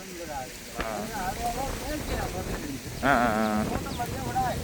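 Goats bleat on a farm, with a few wavering calls at moderate distance, the loudest coming near the end, over a steady patter like rain and faint background voices.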